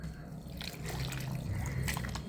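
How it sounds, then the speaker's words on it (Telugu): Water trickles into a milk-based batter being mixed for Sankranti rose-shaped sweets, a soft, steady liquid pour close by with faint kitchen clatter and no talk. "కొంచెంగా వాటర్ వేసుకుని మనం కలుపుకోవాలి."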